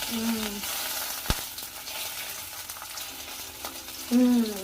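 Veg seekh kababs frying in hot oil in a pan on low heat, a steady close sizzle running throughout with one sharp tap partway through and brief voices at the start and end.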